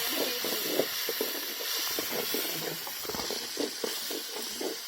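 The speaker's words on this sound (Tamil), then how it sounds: "இப்ப வெங்காயம் போட்டுக்கலாம் வதக்கலாம்" Onions sautéing in a pan for a fried chicken gravy, a steady close hiss with faint crackles and stirring scrapes, no talking.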